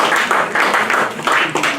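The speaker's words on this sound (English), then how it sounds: "as we collectively give snaps and claps to our poets" An audience at a poetry month words-and-music event applauds and snaps for the poets, a dense, close patter of claps and finger snaps swelling in uneven waves.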